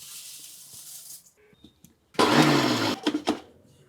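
A mixer grinder whirs loudly in a short burst as it grinds curry leaves and drumstick leaves with roasted lentils into a powder, following a quieter stretch of faint kitchen noises and ending in a few pulsed bursts.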